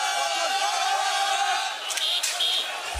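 Crowd of thousands of protesters outside the French embassy in Niger's capital, a dense continuous roar of many voices with shouts rising above it, some whistles or high cries near the end, steady and loud throughout.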